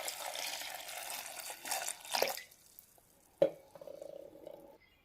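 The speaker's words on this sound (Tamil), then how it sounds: "எல்லாம் சேர்த்துட்டு கொஞ்சம் தண்ணி விட்டுக்குங்க." Water is poured into a pot of spinach sambar with lentils, onion, tomato and garlic, a soft gushing pour that fades to a few quiet drips and a faint clink.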